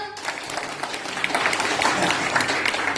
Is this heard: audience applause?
yes